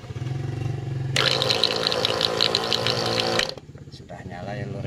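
An electric knapsack sprayer with a weak battery whirs to life, its motor whining steadily for about two seconds before cutting off abruptly, with a voice talking nearby.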